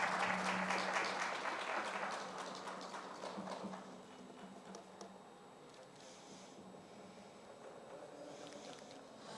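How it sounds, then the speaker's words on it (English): Audience applause at a supply chain awards ceremony in the Middle East, loud crowd clapping at the start that fades to a lighter, quieter patter. "please give a round of applause to the team of JK Tires and Industries"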